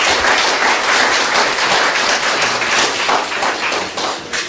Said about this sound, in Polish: Jeszcze raz wielkie brawa dla Joanny, niech usłyszę.